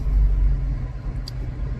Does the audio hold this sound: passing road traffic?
yes